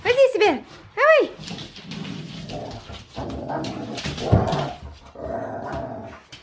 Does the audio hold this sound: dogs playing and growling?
yes